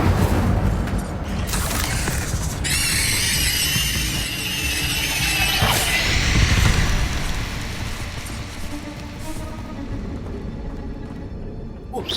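Incendio fire spell cast in Hogwarts Legacy inside a cave, a loud fiery burst with a crackling, booming rush that swells midway and then trails off into a rumbling tail, heard alone with no talk.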